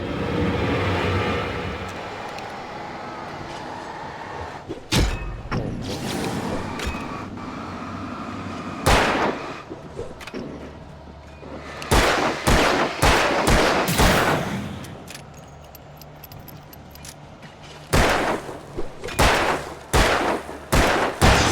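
In the video game Alan Wake, repeated loud shotgun blasts fire at irregular intervals, with some shots coming in quick clusters over a rumbling game background.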